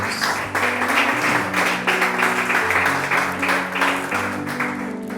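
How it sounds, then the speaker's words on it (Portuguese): A church congregation clapping during a Bible study, rhythmic pulsing claps in a steady beat over sustained musical tones, fairly loud and close. "As palmas para Jesus"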